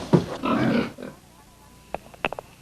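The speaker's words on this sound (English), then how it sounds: "Feeding the pigs was fun. They made such lovely sounds as they ate." Pigs feeding on a farm give a burst of close grunting and snuffling, then quieter scattered oinks and short squeals as they eat.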